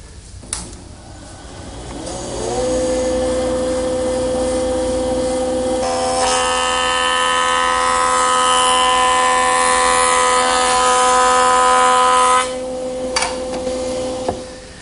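A jointer squaring the edges of wood boards: the machine spins up to a steady, loud motor hum, a harsher cutting whine rises as the board passes over the knives for several seconds, then drops back before the motor winds down.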